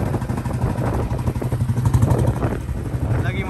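A 1964 Royal Enfield Bullet G2 motorcycle idles close by with a deep, loose single-cylinder thump and mechanical clatter, running steadily while someone talks over it.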